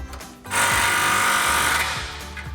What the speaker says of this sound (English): we'll take a 15mm socket to tighten down the clamp on our driver's side.